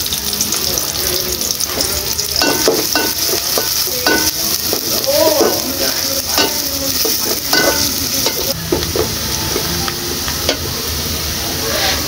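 Fish with garlic fries loudly in hot oil, a dense continuous sizzle broken by scraping and clinking as a spatula stirs it around the pan, close and steady throughout.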